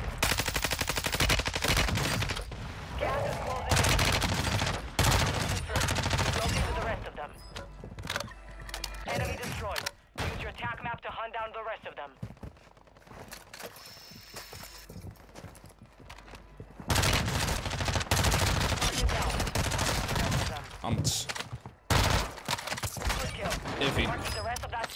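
MP5 submachine gun fire in the video game Warzone, bursts of rapid shots in several stretches with quieter gaps, mixed with game effects and someone talking over it.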